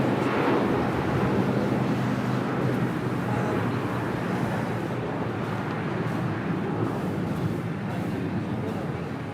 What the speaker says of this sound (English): United Airlines Flight 2049, 757-300.